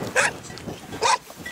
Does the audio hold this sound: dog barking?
yes